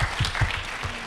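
An audience at a talk on Black immigrant rights gives a brief burst of clapping, a few scattered claps heard close by.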